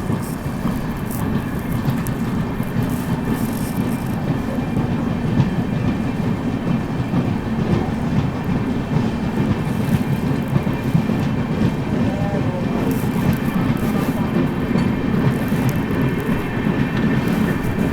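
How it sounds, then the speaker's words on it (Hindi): The Shri Shakti AC Express from Katra to New Delhi pulling away in dense fog, a steady close rumble with continuous clickety-clack of wheels on rails throughout, no talk. "अभी अपनी ट्रेन निकल रही है"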